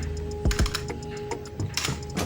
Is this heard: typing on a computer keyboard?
yes